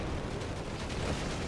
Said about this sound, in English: Panzer IV once again tries to hold under heavy fire from artillery